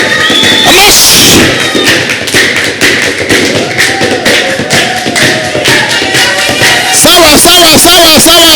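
Church congregation clapping together at a worship service, dense rhythmic applause continuing throughout, loud and close, with a sung or shouted voice rising over it near the end.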